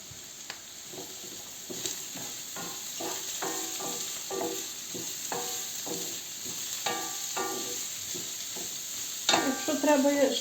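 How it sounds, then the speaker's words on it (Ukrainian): Onion and carrot sizzle steadily in a hot pan while a utensil stirs and scrapes in short strokes, with a louder clatter near the end. "І смажимо цибулю. Додаємо моркву."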